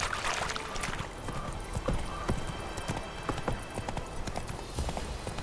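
Roach, the horse in The Witcher 3 video game, gallops with steady rhythmic hoofbeats clip-clopping across ground, mid-distance under a faint game ambience.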